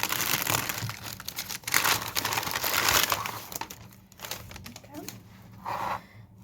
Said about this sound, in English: I do apologise for the rustling